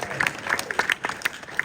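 A Q&A audience claps for Taylor Sheridan in a brief, fairly light burst of scattered hand claps.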